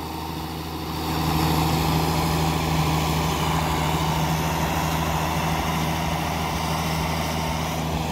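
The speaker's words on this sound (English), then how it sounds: "She's pulling a four-bottom reversible plough here." Ford TW25 tractor with a straight pipe pulls a four-furrow Kverneland reversible plough, its engine a steady, loud, close rumble that swells slightly after the first second and then holds constant.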